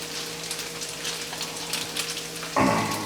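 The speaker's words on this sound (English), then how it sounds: "So this is going to saute down. I'm going to stir it a little bit, probably a minute or two." Leftover meatloaf and rice hash sautés in a pan with a steady crackling sizzle like light rain, and a short tonal clatter cuts in near the end.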